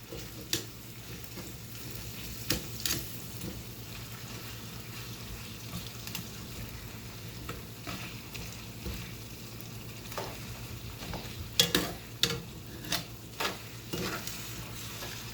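Ground meat for spaghetti sauce fries in a pan with a constant low sizzle, broken by sharp scrapes and knocks as a utensil chops and breaks it apart, the knocks bunching together late on.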